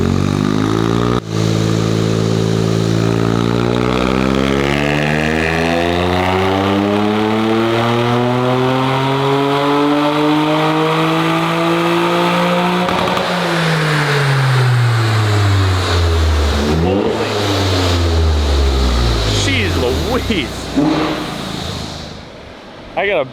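A Toyota GR Corolla fitted with a new aftermarket downpipe revs hard, its engine note sweeping up and falling back through repeated loud pulls, close by, with a voice briefly over the noise.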